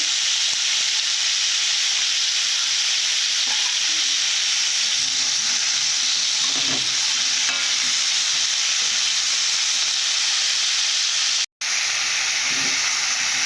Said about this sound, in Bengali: ভালো করে ভেজে নেব এইভাবে আলুগুলো তুলে নেব